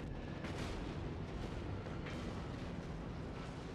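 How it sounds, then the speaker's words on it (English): A warship's heavy naval guns fire a salvo in a World of Warships sea battle: deep, rumbling booms stacked into a continuous roar, with a few sharper blasts rising out of it. "get a good salvo off"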